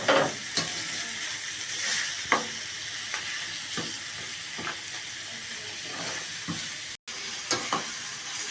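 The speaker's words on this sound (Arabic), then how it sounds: "تمام، هنشوح السجق." Chopped sausage being stir-fried with softened onions in a pan, close, continuous sizzling broken by repeated scraping stirs and sharp clacks of a utensil.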